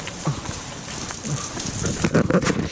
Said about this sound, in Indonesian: Sekarang Amerika lagi hujan nih